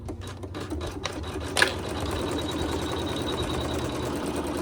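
An embroidery machine stitches a pattern onto wool, a steady close mechanical whir and rapid needle chatter after a few uneven starts, with one brief louder clack early on.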